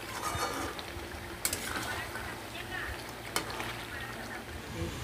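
Potatoes and chicken, stomach and liver pieces fry and get stirred in a pan, giving a steady low sizzle with scraping stir sounds and two sharp clacks of a utensil against the pan.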